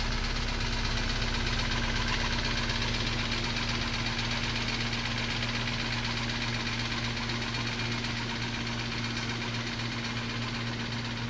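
A 2013 BMW 328i F30 with its N20 engine running at idle, awaiting blown head gasket repair, a steady close droning hum with an even mechanical buzz throughout, no voices.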